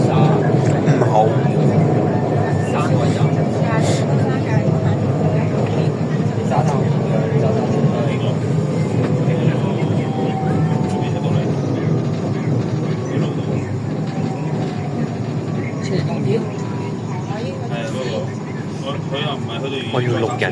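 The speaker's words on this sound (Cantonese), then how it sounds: "我要錄引擎聲啊！" A Shenzhen Metro Airport Line train running between Gangxia North and Houhai, with a steady loud rumble and motor drone throughout and people talking over it.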